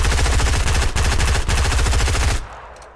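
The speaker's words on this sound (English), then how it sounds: "I shot them once and I got seven damage" Rapid automatic gunfire from Fortnite roars in tight repeating bursts, loud and close, broken by two brief gaps before stopping abruptly near the end.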